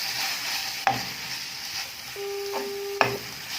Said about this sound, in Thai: ผัดคลุกเคล้าให้เข้ากับพริกแกงของเราดีนะคะ